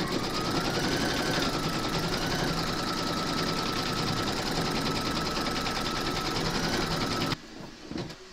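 An embroidery machine stitches a cuddly in-the-hoop penguin design in orange thread, a loud, fast, even mechanical rattle that runs for about seven seconds and then cuts off, leaving a few faint handling noises.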